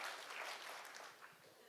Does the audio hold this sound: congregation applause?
yes